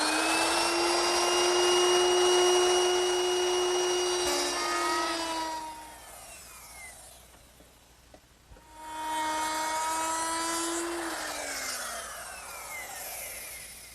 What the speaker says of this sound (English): I'll make that beveled rabbet using a 22-degree beveling bit